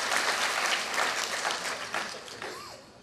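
An audience applauds to welcome the poet Anwar Masood at an Urdu poetry gathering, a dense steady clapping from a sizable crowd that gently tapers off over a few seconds.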